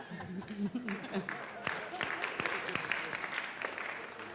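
Audience applause at a startup panel forum in San Diego, moderate clapping from a room of people that builds after a voice at the start and continues steadily.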